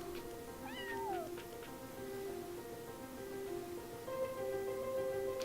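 A kitten in the video game Yonder The Cloud Catcher Chronicles gives a couple of short rising-and-falling meows early on, set against steady, sustained in-game music that carries on to the end.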